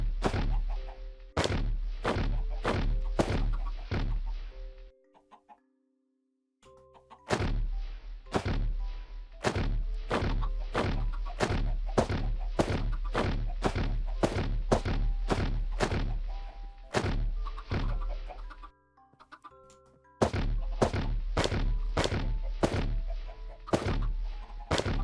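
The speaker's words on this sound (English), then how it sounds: "now what we need to do is lob in the eggs and hope we get some chickens out of it" Eggs are thrown repeatedly in the Minecraft video game, each toss a sharp rhythmic thunk in a fast regular series, with chicken clucks mixed in when chicks hatch, broken by two short gaps.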